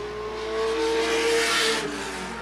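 Late model race cars roaring around Sandusky Speedway, a sustained engine drone that swells as cars pass and then fades, heard from a distance without talk.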